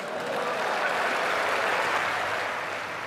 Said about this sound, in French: Alors, Justin Trudeau applaudit, mais aussi hué